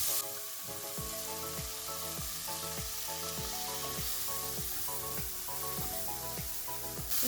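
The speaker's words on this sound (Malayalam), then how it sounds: "സവാളയും വെളുത്തുള്ളിലേക്ക് നന്നായി ഒന്ന് വഴറ്റിയെടുക്കാം." Chopped onion and garlic sauté in a pan with a dense, continuous sizzle, overlaid by a regular rhythm of spoon strokes scraping across the pan bottom, close and fairly loud.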